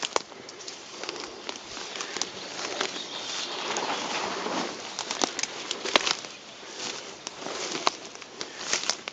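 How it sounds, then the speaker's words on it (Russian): Birdsong in a forest, many birds calling and trilling all around at moderate distance, steady through the whole stretch with no voices. "Птицы, да, птицы вот это поют, заливаются кругом."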